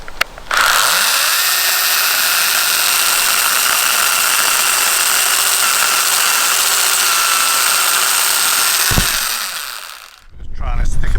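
A Ryobi cordless pruning saw cuts through a tree branch, its motor spinning up and then holding a loud, steady buzzing whine for about eight seconds before stopping, with wind noise near the end.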